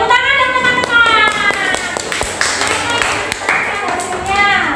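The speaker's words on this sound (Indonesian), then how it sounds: "Oke, tepuk tangan dong teman-teman." A group of classmates in an Indonesian teacher-training classroom session claps briefly while a voice speaks over them; the claps are quick and uneven under the talk.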